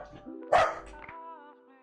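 A dog barks once, loud and close, in a short sharp burst, with a faint whine and low room noise before and after it; no one talks.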